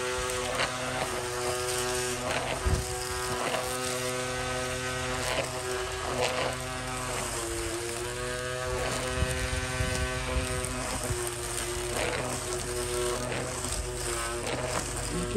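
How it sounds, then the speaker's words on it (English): A cordless 3-in-1 weed eater trimmer from Suncanri cuts and trims small brush, its motor a steady, close, high-pitched whine with line-slapping crackle that holds level for the whole stretch, with no voices over it. "Cutting and trimming small brush like this"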